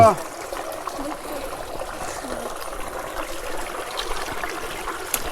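Clear spring water flows on Shrungaraj hill in a constant soft trickle and gurgle outdoors, close by, with faint background voices.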